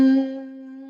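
A single steady hum on the exhale during a breathwork exercise sounds as a close, sustained, resonant tone that starts strong and settles to a softer, even drone.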